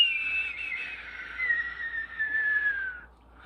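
A person whistles a sustained, gliding high tone imitating Roddy Ricch's signature whistle, slowly falling in pitch over about three seconds before cutting off, clear and close with no talk.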